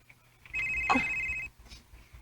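A mobile phone rings with a steady electronic tone lasting about a second, fairly loud and close against a quiet room with no talk.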